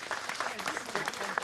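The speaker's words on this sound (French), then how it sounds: "On peut l'applaudir bien fort." A studio audience applauds a correct answer with steady, fairly close clapping over the whole stretch, with speech mixed in under the clapping.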